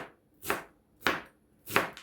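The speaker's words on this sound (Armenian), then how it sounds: "Եկեք ես մանր կտրատեմ նաև կանաչիները" Knife chopping fresh herbs finely on a board, three crisp separate strokes spaced about half a second apart, close and clear with no talking.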